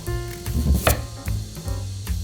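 Knife slicing whole, unpeeled sweet potato at a slight angle on a cutting board, for sweet potato fritters. Close, repeated crisp cuts and dull thuds against the board come in an uneven rhythm, with no talking.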